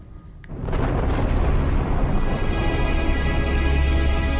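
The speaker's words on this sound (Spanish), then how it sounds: "se provocaría una gigantesca explosión, un Big Bang" A huge explosion effect meant to evoke the Big Bang erupts after a brief rising hiss, then rolls into a loud, sustained, deep rumbling roar.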